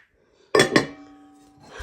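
Decorative cooking pots clink together twice in quick succession as they are handled, leaving a short metallic ring that fades, followed by a soft rustle at the end.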